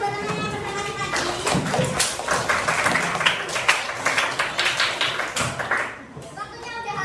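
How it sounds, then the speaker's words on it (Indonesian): A seventh-grade class applauds a classmate's presentation, a dense burst of many hands clapping close by that rings on for several seconds before thinning out, with children's voices mixed in. "Bisa kita kasih tepuk tangan buat temennya yang presentasi tadi."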